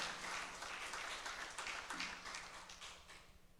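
A church congregation applauds during a bilingual sermon, a moderate burst of clapping that gradually thins and fades toward the end.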